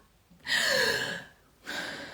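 A human voice imitates someone gasping for air while suffocating: a long, loud, strained inward gasp, a brief pause, then a second sharp gasp.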